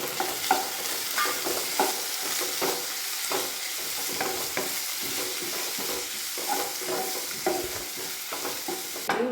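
Mushroom curry base of crushed aromatics sautéed in a pan, giving a steady close sizzle with repeated scraping strokes of a stirring spoon throughout, no talking.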